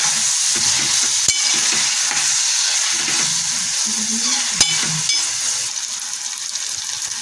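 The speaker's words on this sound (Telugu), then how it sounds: "టమాటాలు కూడా వేస్తాం. ఇవి కాసేపు మగ్గబెట్టాలి." Tomatoes cook in a pan with ginger-garlic paste for a brinjal and tomato curry, giving a steady, loud sizzle with occasional sharp clinks of a utensil against the pan.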